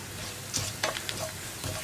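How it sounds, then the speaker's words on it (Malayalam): Onions fry in oil in a pan for a Kerala long bean stir-fry as crushed dried red chili is added: a steady, moderate sizzle with a few brief stirring scrapes and crackles, and no voices. "നമുക്കിതിലേക്ക് വറ്റൽമുളക് ചതച്ചത് ചേർക്കാം"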